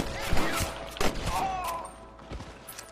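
Several sharp gunshots crack out in quick, irregular bursts during a Red Dead Redemption shootout with rustlers, loud and close, with some clatter between the shots.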